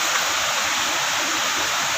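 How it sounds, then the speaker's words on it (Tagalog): A waterfall at a mountain picnic spot, steady dense rushing water heard up close, continuous and even throughout with no voices. "Papakita namin sa inyo kung gaano ganda yung waterfalls dito."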